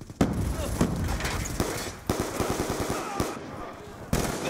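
Rapid automatic gunfire in Black Ops 2 multiplayer, loud close rattling bursts of evenly spaced shots with short pauses, a sharp single crack near the end.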